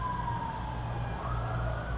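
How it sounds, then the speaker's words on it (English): A police siren wails steadily in Las Vegas, a sustained rising and falling tone over a low rumble of street noise, fairly loud and alone. "You live in Vegas, you hear police sirens."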